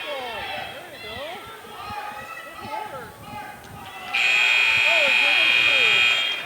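A loud sustained buzzer ends a high school wrestling period between Winner Warriors and Stanley County Buffaloes, sounding steadily for about two seconds over crowd noise and an announcer's talk in a gym.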